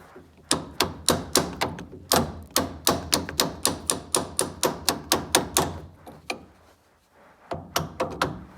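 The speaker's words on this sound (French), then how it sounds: "Vas-y, prends le marteau." Metal rings under a hammer as a 1924 Panhard & Levassor X36 engine is taken apart. The blows are loud, close and sharp, coming in a quick regular series, then a brief pause, then a few more strikes.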